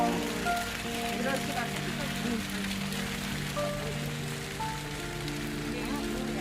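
Steady rain falls and patters on surfaces throughout, with muffled voices talking faintly in the background.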